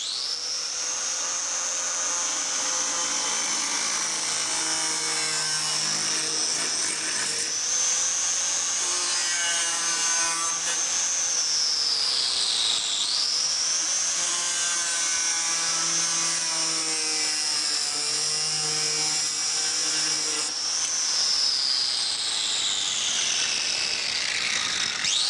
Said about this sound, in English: we're going to use a mini grinder for speed